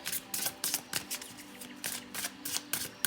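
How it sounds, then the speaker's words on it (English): Tarot cards riffle and slap in a quick, uneven rhythm of crisp bursts, shuffled close up and alone for a few seconds. "Let me just shuffle your cards a bit longer."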